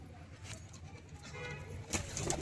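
Soft low cooing from pet pigeons, including teddy-type birds offered for sale, murmurs quietly among faint rustles and small taps.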